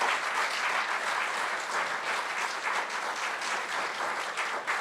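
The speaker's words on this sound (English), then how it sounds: "How about a round of applause just for that alone?" An audience at a high school board of education meeting gives a steady round of applause, a dense, even patter of many hands sustained at moderate loudness throughout.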